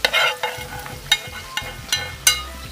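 Sweet potato halwa with fried wheat and raisins being stirred in a pan, with a steady run of scraping strokes about every half second over a low frying sizzle.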